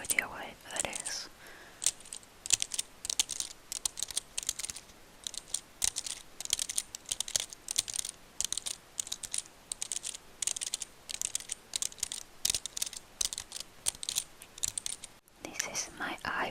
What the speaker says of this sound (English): This is my iPad's keyboard.